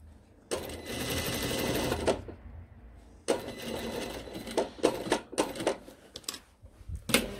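A sewing machine stitches a backstitch on a blazer, running in a steady two-second burst, pausing, then starting again in short choppy bursts of stitching up close.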